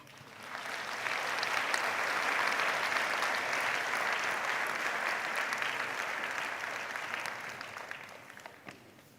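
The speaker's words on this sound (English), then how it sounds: "as they leave, let us applaud them again" Audience at a Stellenbosch University graduation ceremony applauding the departing musicians: a sustained wash of clapping that swells in quickly, holds steady and thins out near the end.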